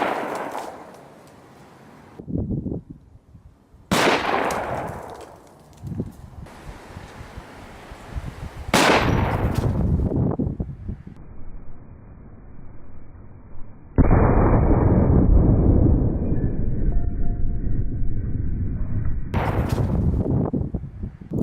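Gunshots fired at a board loaded with pocket change ring out as several loud, sharp blasts spaced a few seconds apart, each trailing off into reverberant decay, with a sustained rumbling noise filling the final stretch.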